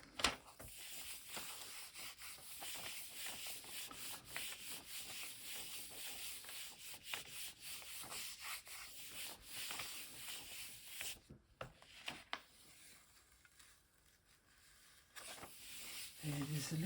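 Hand rubbing across the back of a print laid on an inked block, a steady dry scraping texture running continuously, pausing briefly near the end, with no talk over it.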